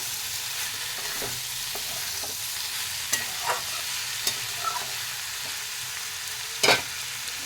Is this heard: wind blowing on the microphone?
no